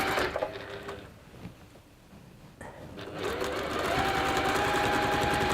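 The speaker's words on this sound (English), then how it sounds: "and I'm just top stitching, so an 1/8" A sewing machine top-stitches an eighth of an inch from the edge of fabric to close a turning gap. It starts with a short run, goes quiet for a moment, then whirs steadily and close for the last two and a half seconds.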